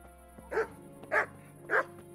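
A dog in the video game Kingdom Come: Deliverance barks three times at an even pace, moderately close and clear over a low steady background.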